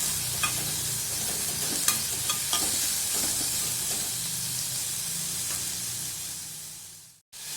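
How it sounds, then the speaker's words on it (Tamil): Chopped onion and tomato sizzle in a hot pan while cooking Tamil-style kadappa, with a continuous hiss of frying broken by a few sharp clicks of stirring before the sound cuts off abruptly near the end. "கொஞ்சம் ஃப்ரை ஆகட்டும் வெங்காயமும் தக்காளியும்."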